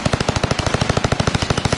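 Rapid automatic gunfire in Warzone rattles in a steady, evenly spaced burst of about twenty loud shots in under two seconds, close and continuous with no talk.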